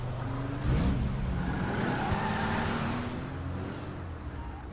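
The Deluxo flying car in GTA Online roars up with a rising engine rev that swells loudly, then holds a strong steady drone before gradually easing off, with no voices.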